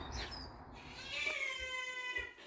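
A domestic cat meows loudly and close by during a pet-sitting visit, giving a couple of drawn-out, wavering cries over faint background noise.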